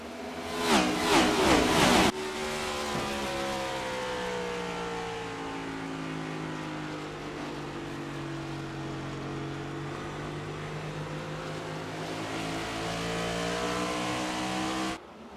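Race cars roar off at the green flag of a 151-lap oval race in New Hampshire, a loud burst of revving engines giving way to a sustained, layered drone of the field accelerating together, steady and close throughout.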